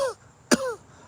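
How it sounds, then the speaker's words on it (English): One short, sharp cough, preceded by a brief rasp, in an otherwise quiet moment. "One cough."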